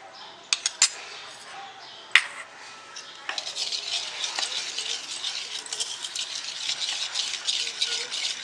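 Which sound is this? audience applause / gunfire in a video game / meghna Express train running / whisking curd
whisking curd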